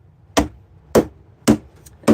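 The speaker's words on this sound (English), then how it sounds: "there I am, using my block of wood as my hammer" A block of wood is used as a hammer, giving four sharp, evenly spaced knocks about half a second apart, close and loud against near silence.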